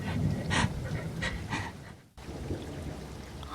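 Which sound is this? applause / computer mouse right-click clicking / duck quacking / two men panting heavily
two men panting heavily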